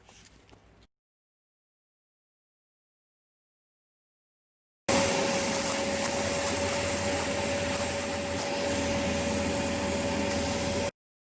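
A vacuum cleaner runs in a garage during a seeping-wall repair, a loud steady roar with a constant motor whine that starts abruptly after silence and continues for about six seconds.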